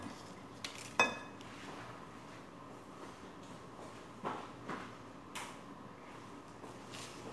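A metal cooking pan (kawali) is handled in a home kitchen, with a sharp clink near the start and a few soft knocks and scrapes later, quiet and close.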